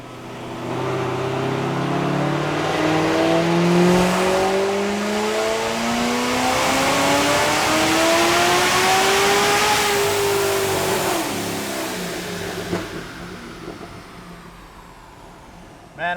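Loud, close engine of a 1000hp Procharged C7 Corvette winding up steadily through a long pull, pitch climbing for about ten seconds before the throttle lifts and it drops back to a lower drone.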